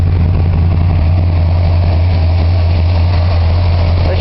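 A 1978 Chrysler New Yorker Brougham sits snow- and ice-covered after a cold start, its engine idling with a steady, loud low rumble and even exhaust burble throughout, no voices over it.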